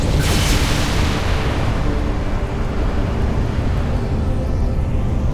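A cannon fires in Halo: Reach, a loud booming blast at the start that rolls into a sustained, rumbling roar and fades slowly over several seconds.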